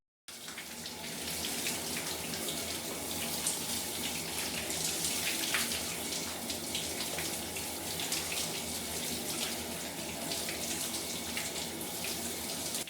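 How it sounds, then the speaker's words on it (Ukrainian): Shower water runs steadily from start to finish, a constant broadband hiss and spatter heard up close with no voices. "Ви приймаєте душ."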